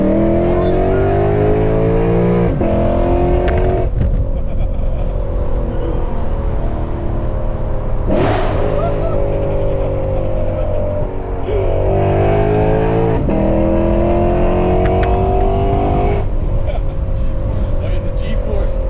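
A modified Lexus RC F with more than 500 horsepower, tuned by FBO, revs hard and downshifts on backroads. Loud, close engine notes climb and drop repeatedly with sharp blips through the whole stretch.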